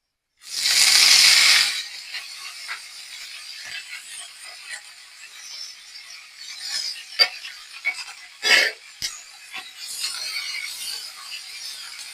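Freshly washed curry leaves hit hot oil in a pan with a loud burst of hissing sizzle, then a quieter crackle goes on with scattered sharp pops and a few brief flares, close by and with no talk.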